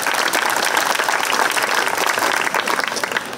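Dense, steady applause from a county fair crowd honoring talent show contestants, a continuous wash of many hands clapping at fairly close range with no speech over it.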